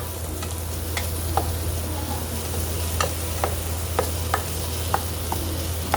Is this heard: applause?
no